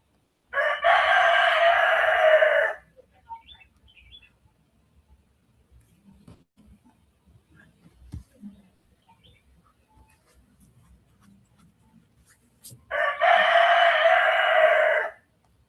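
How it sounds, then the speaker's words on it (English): A rooster crows loudly twice, each harmonic call lasting about two seconds, with a long quiet gap between them carrying faint background noise. "is it cockerel or chicken or what is that?"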